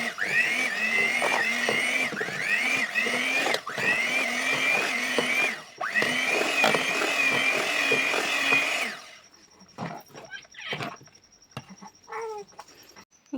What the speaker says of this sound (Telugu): కొద్దిగా పాలు యాడ్ చేసుకుంటూ బీట్ చేసుకుంటున్నా